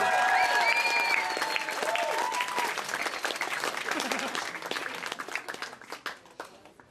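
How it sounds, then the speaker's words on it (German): An audience applauds a poetry slam finalist taking the stage at the Eisenwerk in Frauenfeld, dense clapping with some cheering that tapers off toward the end. "Ein Applaus!"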